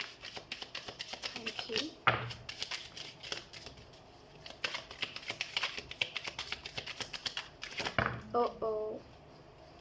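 Tarot cards shuffled by hand, a run of soft rapid riffling and tapping bursts, close and fairly quiet, with someone speaking briefly near the end.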